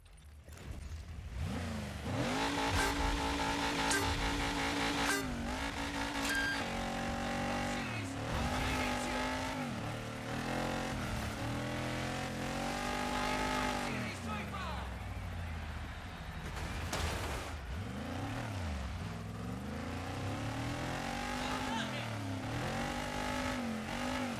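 A WS Auto Racing Mudclaw Rock Bouncer rally car races in Dirt 5, its engine revving loudly in rapid pitch sweeps as it shifts and accelerates, with occasional tire squeal and skidding over a busy, continuous roar.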